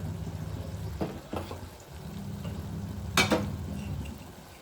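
Spiced bhaji sizzles quietly in a pan while a spoon stirs the masala through it, giving a low steady fry broken by a few sharp scraping clacks of utensil on metal.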